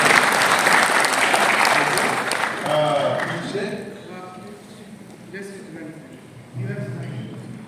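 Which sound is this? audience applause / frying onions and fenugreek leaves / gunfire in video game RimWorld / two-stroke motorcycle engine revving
audience applause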